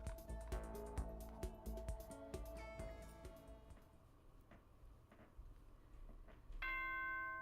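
Bright chime tones from the Danganronpa video game's nighttime announcement ring out in a layered sequence of bell-like strikes, fading over several seconds before a sustained electronic tone enters near the end.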